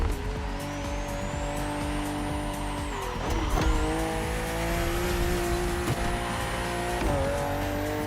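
BMW CSL car driving in The Crew Motorfest, a steady loud engine drone with whining harmonics that dip and climb through gear shifts, plus a faint tire squeal.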